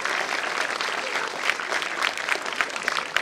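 Applause fills a hall at a university gathering in Rzeszów, a dense, steady clapping from a sizeable audience that goes on without a break.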